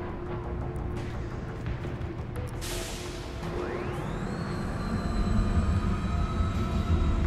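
Monorail train in the video game Mass Effect 3, a steady rumbling run with a rising whine partway through, growing slightly louder toward the end, no talk over it.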